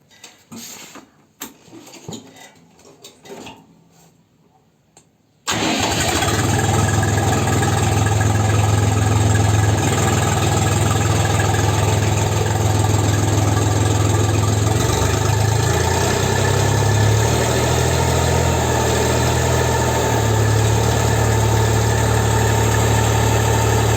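After several seconds of clattering and rustling, a Kentavr 244S minitractor engine cranks and starts, then runs steadily with a loud, rough, low rumble as a 1500 rotary tiller runs.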